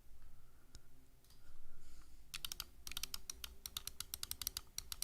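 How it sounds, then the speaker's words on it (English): A Razer Viper Ultimate computer mouse clicking, a quiet stretch followed by rapid bursts of sharp, close clicks in uneven clusters. "The Viper Ultimate sounds... Honest reviews here. Listen to this mouse now."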